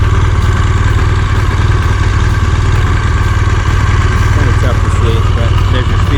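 A motorcycle engine, started by push button, rumbles steadily at idle, close and continuous, with a low throbbing tone throughout and faint mechanical clatter on top.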